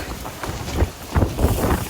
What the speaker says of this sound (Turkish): Çok rüzgar olduğu için pek çekemiyorum.